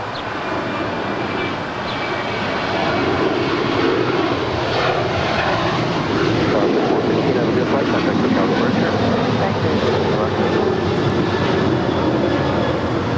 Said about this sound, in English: Just had a Virgin Atlantic Flight 141 coming in from London on that Dreamliner